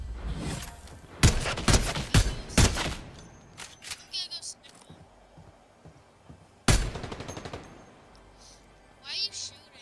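Gunfire in the Fortnite video game, with a rapid burst of sharp shots early on, a second loud volley midway and scattered fainter shots between, all close and loud with some voice chat underneath.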